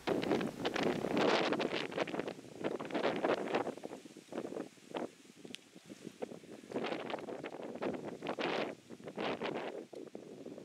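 Gusting wind buffets a homemade cable-drum wind turbine outdoors at night, roaring loudly in two long surges with a quieter, rustling stretch between them and no voices.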